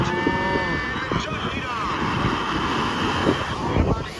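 A cold sea breeze at Digha beach rushes steadily across the microphone as a constant wind roar, with a person's voice talking faintly underneath.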